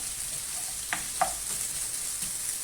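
Onions frying in a pan for chicken fajitas, a continuous hissing sizzle with two brief utensil scrapes near the middle, moderately close and without any voices.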